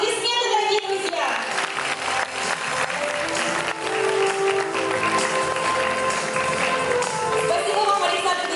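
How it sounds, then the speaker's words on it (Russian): An audience in a hall at a lyceum's anniversary celebration breaks into sustained, dense applause that fills the room, with faint music or voices mixed beneath it. "Аплодисменты, дорогие друзья!"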